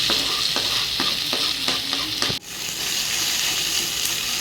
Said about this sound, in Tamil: வெங்காயம் வச்சு இப்போ தக்காளி போடுறோம்